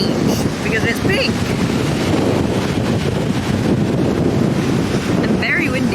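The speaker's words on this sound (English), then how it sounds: "and very windy." Strong wind at Kalbarri Pink Beach buffeting the microphone with a loud, constant roar, surf rumbling underneath and brief faint voices breaking through.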